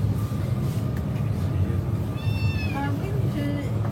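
Several cats meow in short, rising and falling calls near the middle and end, over a steady low rumble with people talking.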